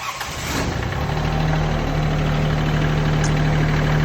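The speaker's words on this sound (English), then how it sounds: "we're gonna have Antonio go ahead and fire the tractor back up" A KIOTI CS2220 compact tractor's engine fires up and settles into a steady, loud idle close by, its low drone holding evenly to the end.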